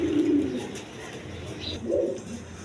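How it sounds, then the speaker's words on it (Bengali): A pair of Lahori pigeons, one black hen and one red cock, coo in low soft rolling phrases at close range, two short bursts with quiet gaps between them and no talk over the calls. "এইখানে এক পেয়ার লাহোরি কবুতর আছে"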